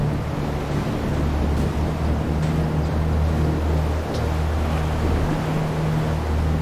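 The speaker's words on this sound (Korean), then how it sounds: "이럴 때 성난 파도에 맞서는 일은 매우 위험하다." Raging sea waves surge and wash around a sailing boat on the Yellow Sea, a loud, constant roar of water and wind with no voices.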